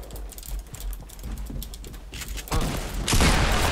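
Sniper gunfire in the video game Fortnite, loud cracking bursts arriving in the second half over a busy backdrop of clicking game sounds and mechanical ticking.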